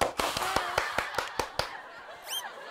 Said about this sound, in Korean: 박수 좀 주세요, 박수.